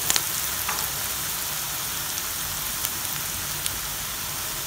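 Onions frying in a pan for a cluster beans stir-fry, giving a steady, even sizzle with faint crackles throughout and no voices.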